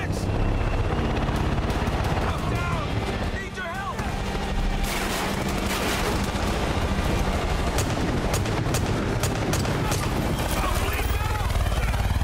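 A helicopter in Far Cry 5 churns close and loud, largely buried under dense, continuous gunfire and battle noise, with voices talking over it.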